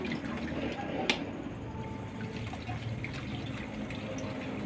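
Boiled eggs being rinsed under cold running water: a steady splash and trickle of water from a tap, with a sharp knock early on.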